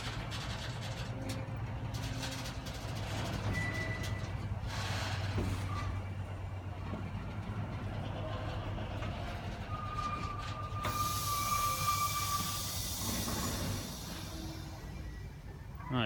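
A Colas Rail freight train locomotive idles at Exeter St David's station, a steady low diesel rumble with a droning hum, occasional higher whines and a hiss near the end.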